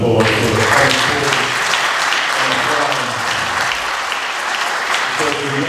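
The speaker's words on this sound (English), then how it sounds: "I'd like to give them all a big round of applause for their coming forward." A school board meeting audience breaks into loud, sustained applause, dense clapping with some talk and crowd voices mixed underneath.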